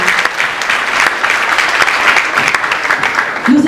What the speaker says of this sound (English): Est-ce qu'on peut l'applaudir encore, s'il vous plaît, mesdames et